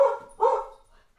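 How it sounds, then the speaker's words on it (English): Two sharp dog barks in quick succession, fairly close and clear, followed by a brief quiet. "It's dogs. It's dogs."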